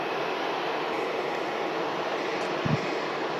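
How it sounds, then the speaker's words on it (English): A Norse airliner taxis out at Manchester Airport, a steady broad engine whine and rumble heard from a distance, constant and fairly faint with no talk. "Yes, North Streamliner just taxiing out"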